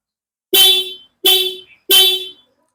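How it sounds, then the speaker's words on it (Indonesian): Three loud, close horn blasts from a Yamaha NMAX scooter-style motorcycle being tested after a repair, each about half a second long and evenly spaced, alone with no talk. "Saya akan tes kembali untuk klakson pada motor ini teman-teman"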